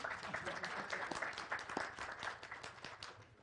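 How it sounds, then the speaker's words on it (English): An audience at a Safaricom Sacco 20th anniversary event applauds Craft Silicon with steady, moderately distant clapping that holds throughout. "Please let us clap for Craft Silicon."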